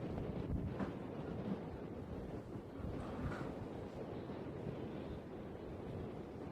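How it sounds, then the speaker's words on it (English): Steady wind buffets the microphone at an outdoor women's under-18 football match, a continuous low roar with no pauses. "Now it's getting windy"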